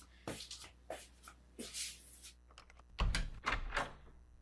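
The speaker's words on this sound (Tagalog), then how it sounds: "Buti naman pinagbuksan mo na ako ng pinto" Door being opened from inside a house, a series of shuffling knocks and rattling handling sounds ending in a heavier thump, close by with no talk.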